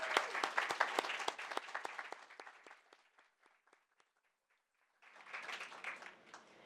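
Audience at a food bank leadership award celebration applauds staff and board members with a loud burst of clapping that thins out, then a second wave of applause.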